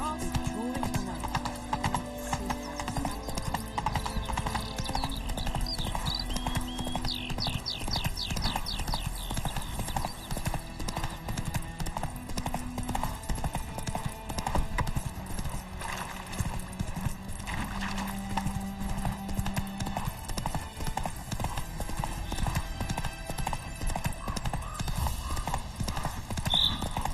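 Horse hooves clip-clop in a steady, regular rhythm, close and clear, with an occasional whinny, over background music and a voice talking.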